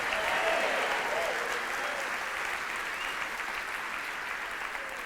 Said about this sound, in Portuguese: Você pode aplaudir forte